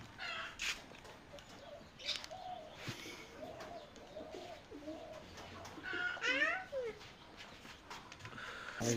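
Pigeons coo softly and repeatedly in a garden in the late afternoon, with faint bird chirps and a distant dog mixed into a quiet outdoor background.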